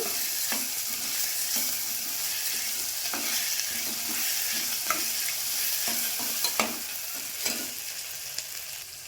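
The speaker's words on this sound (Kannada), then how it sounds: "ಇವಾಗ ಶುಂಠಿ ಬೆಳ್ಳುಳ್ಳಿ ಪೇಸ್ಟ್ ಹಾಕ್ಕೋತಿದ್ದೀನಿ" Ginger garlic paste frying in an oily pan while being stirred: a steady, close sizzle with repeated scraping strokes of a spoon against the pan at an uneven rhythm.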